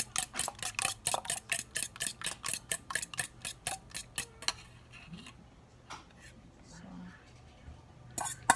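Ground beef and four eggs being mixed by hand for Shanghai-style lumpia filling: quick rhythmic wet slaps and stirring strokes for about four seconds, then quieter handling with soft speech.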